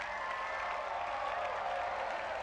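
Crowd applause in Grand Theft Auto V, a steady dense wash of clapping filling the whole stretch at moderate level, with no voices on top.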